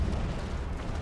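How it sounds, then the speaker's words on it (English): Cannon fire from an Empire: Total War battle slams into the ground as a continuous low, rumbling barrage of dull booms, dense and steady throughout with no voices. "a lot of the cannon fire there goes just straight into the ground"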